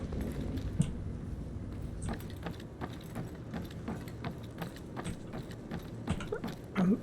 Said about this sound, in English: I can definitely hear some footsteps.